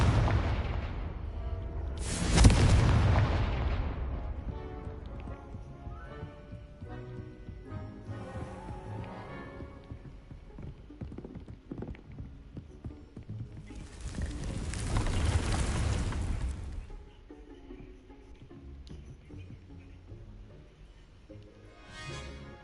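Confringo fire spell exploding in Hogwarts Legacy: two loud booming blasts, one early and one longer mid-way, with rumbling game ambience and music between them, no talking.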